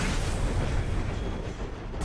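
Continuous explosion effects burst from Warmonger armour in the video game Shadow of War, a dense, loud roar of blasts and crackling with no pauses.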